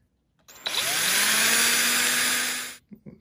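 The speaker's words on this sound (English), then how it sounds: "And I'm going to drill a small hole right in there." A small power drill boring a small hole in the top of a hand-carved wooden Christmas tree decoration whirs steadily for about two seconds, its motor pitch climbing as it spins up, then cuts off with a few clicks.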